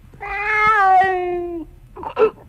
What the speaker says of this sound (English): Is a cat puking? Cat with hiccups.